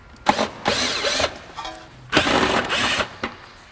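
A power drill drives screws into the fender liner of an Acura Integra or Honda Civic, giving two close, loud whirring bursts of about a second each, with short clicks and pauses between them.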